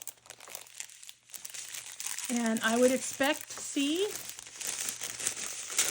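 Plastic bags crinkle and rustle during unpacking of an Amazon haul, a close, steady crackling that runs under a person talking.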